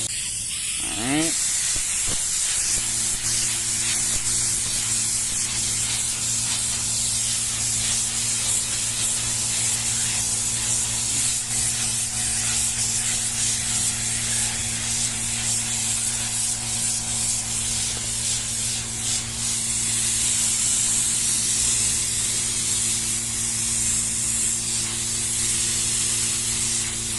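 A spray paint can laying down a light seal coat, a continuous close hiss running almost unbroken throughout, with faint background noise and a short rattle near the start.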